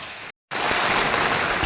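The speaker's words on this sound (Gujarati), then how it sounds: "અત્યારે ચાલુ થઈ ગયું છે ફૂલે ફૂલ વરસાદ" A dense, steady roar of heavy rain pours down loudly and continuously, broken only by a brief moment of silence near the start.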